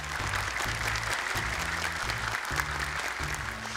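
A studio audience at an Indonesian TV Quran memorization contest claps steadily to welcome a judge, dense and sustained, over a pulsing low musical backing track.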